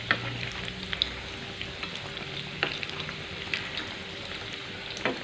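Tempeh steak fries in hot oil in a pan, giving a steady, crackling sizzle with scattered small pops and spits, heard close up and on its own with no talking.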